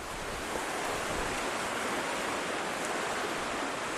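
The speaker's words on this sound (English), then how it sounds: "Oh wow, the wind." Strong wind at a broken-down dam, a loud steady roar of gusts buffeting the microphone, continuous and full throughout with no talking.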